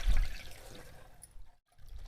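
Water drains from a bowl of soaked cut potatoes in a kitchen, a gentle close pour and trickle that tapers off into a short silence, then resumes faintly.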